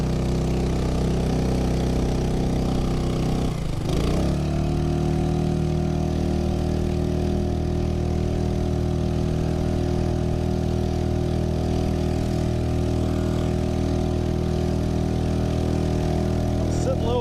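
A Honda 2.3 HP outboard motor drives a Pelican Bass Raider boat on open water, its steady mid-pitched hum continuous and close throughout, with a brief dip and surge in pitch early on as the throttle changes.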